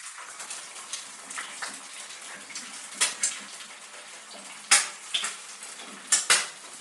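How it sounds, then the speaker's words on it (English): A metal utensil scrapes and clinks against a frying pan while tearing the egg white of frying eggs, with soft scraping throughout and several sharper knocks near the end, close up and without voices. "We carefully tear it like this, so the eggs cook better, while not touching the yolk"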